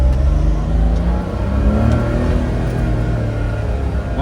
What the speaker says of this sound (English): One of the best sounding K cars